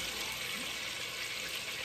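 Garlic, about three teaspoons, sizzles steadily in a pan over medium heat while a tomato cream sauce is being made, giving a soft, continuous frying hiss with no talking.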